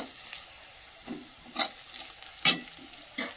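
A tablespoon of black cumin seeds fries in hot oil while being stirred, giving a faint sizzle punctuated by several short scraping strokes of a spoon against the pan, close and unaccompanied by speech.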